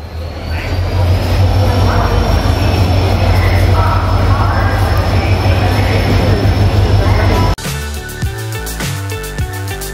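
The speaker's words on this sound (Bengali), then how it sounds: "আর দেখতে দেখতে আমাদের কাঙ্ক্ষিত ট্রেন প্ল্যাটফর্মে চলে এসেছে।" Howrah-Puducherry superfast train pulling in at a station platform, a loud sustained low roar and rumble that cuts off abruptly near the end, followed by quieter station noise.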